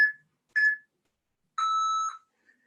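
An exercise interval timer during a Pilates class beeps three times: two short tones followed by a longer sustained beep, clear and alone with no voices.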